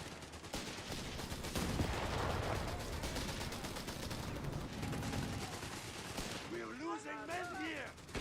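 Rapid bursts of gunfire from a stolen gun in the video game Iron Clad during a tournament final, crackling steadily throughout while a voice talks over the shooting.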